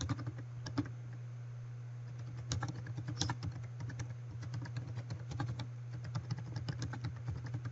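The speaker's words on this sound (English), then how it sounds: "I could also type in comments at the end of the paragraph here" Quiet computer keyboard typing in bursts of soft, fast key clicks with short pauses, close by, over a steady low electrical hum and no talk.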